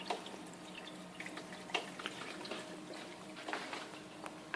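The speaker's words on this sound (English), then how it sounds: "We got a nice gentle trickle over the weir, and it's a lot quieter." Water trickles gently over the weir of a reef aquarium, a soft, quiet flow with faint splashes and drips, close by and without talk.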